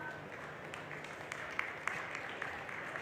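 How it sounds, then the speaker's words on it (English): Audience applause for finalists of a circular design challenge at a fashion week stage event, a steady, fairly quiet wash of clapping with a few sharper individual claps standing out. "give a round of applause to Chamar Sudhir Rajbhar"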